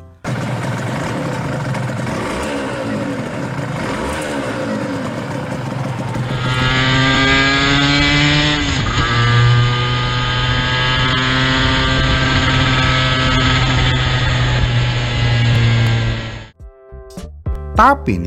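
Honda NSR 250cc two-stroke motorcycle engine running close by, a steady buzzing idle that rises into a louder sustained rev with a brief blip, then cuts off, with a voice talking over the start.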